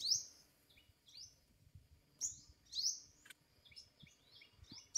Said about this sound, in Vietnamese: Chim chim chuyền nó kêu cũng ghê lắm nè.